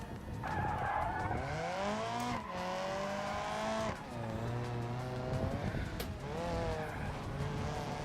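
Car spinning out at Suzuka in the BeamMP racing game: loud, continuous tire skid and squeal with sweeping engine tones for about eight seconds, no talk.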